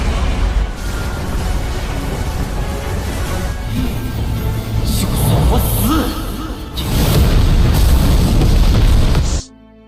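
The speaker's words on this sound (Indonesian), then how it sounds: "Ledakan mengerikan pun tidak terhindarkan" A loud, sustained explosion from an animated fantasy battle series roars on as a dense rumbling wall of noise, swelling louder toward the end before cutting off abruptly.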